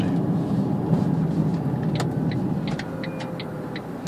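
An electric Smart car accelerating hard, heard from inside as a steady whirring road and motor hum with faint clicks and rattles and no engine roar.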